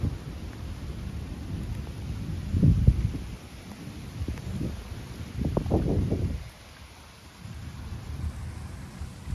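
A summer thunderstorm over Metz brings repeated low rumbles of thunder, swelling and fading in several waves, over a steady hiss of rain.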